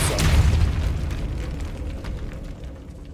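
A Depulso spell blast in a Hogwarts video game, a single booming burst at the start that trails off into a rumbling decay, with no talk.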